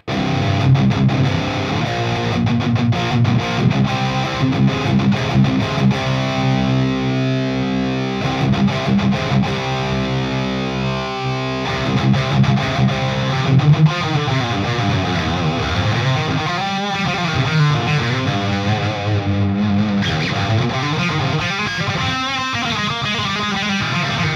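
An electric guitar played through a Jeff Loomis Devil's Triad pedal with light overdrive rings out in sustained chords and riffs, loud and continuous, with no voices.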